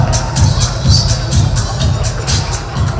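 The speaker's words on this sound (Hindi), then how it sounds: "मैं जोरदार तालियों के साथ शंकर साने का स्वागत करता हूं।" An audience at a fashion show welcomes a singer on stage with loud, close crowd noise and cheering, rising in rhythmic swells with voices mixed in.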